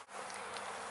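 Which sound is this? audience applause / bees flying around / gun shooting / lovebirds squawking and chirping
bees flying around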